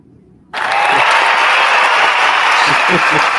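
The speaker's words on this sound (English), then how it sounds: "She couldn't wait to hit the clapping button." A canned applause effect fired by a clapping button bursts in suddenly from near silence, a full, even crowd clapping that stays loud and steady to the end, with faint talk underneath.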